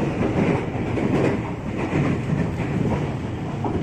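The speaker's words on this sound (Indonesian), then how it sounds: "kereta kita ngebut sekarang" A KRL commuter train rumbles fast along the rails near Manggarai, Jakarta, with a steady roar and rhythmic clacking of wheels, loud and close, no voices.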